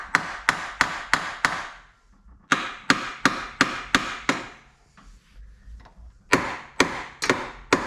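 Repeated sharp metallic taps on a part of a Ford 5.4 two-valve Triton engine, struck in quick bursts of five or six evenly spaced hits separated by short pauses, loud and close.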